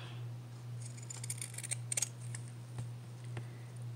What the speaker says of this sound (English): I'm just using these big scissors that do not want to work with me really, and trimming around the edges so it doesn't fray as bad.